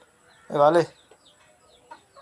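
A rooster lets out one loud, close, throaty cluck, followed by a few faint soft sounds in an otherwise quiet space.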